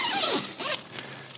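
Zipper on the door of a Vaude Arco 3P three-season tent, pulled in two quick, close strokes with a soft rasping sweep, loud and clear with no talk.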